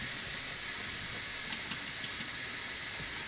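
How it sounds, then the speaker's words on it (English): An Instant Pot releases its pressure in a steady, even hiss that runs unbroken in a kitchen during lasagna making, fairly faint with no voices over it. "The cats get scared of the noise of the Instapot releasing its pressure."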